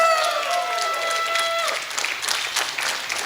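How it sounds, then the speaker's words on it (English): First-year students at the 40th annual lawn party cheer and applaud loudly, a dense burst of clapping and shouts that carries on steadily, with one high whistle-like tone in the opening seconds. "let's hear a shout from the first years"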